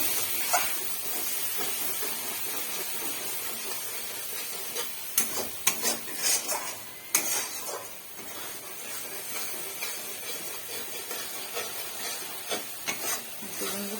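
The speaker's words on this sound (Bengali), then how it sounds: "ভালো করে একটু কষিয়ে নিই।" A pot of spice mixture with added water is fried down for a kochur loti and shrimp dish, producing a soft, low sizzle with bursts of scraping stirs in the middle stretch.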